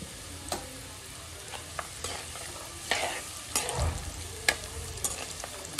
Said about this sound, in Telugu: ఇలా అన్నీ వేగిన తర్వాత నేనైతే కొంచెం ఇంగు వేస్తున్నాను.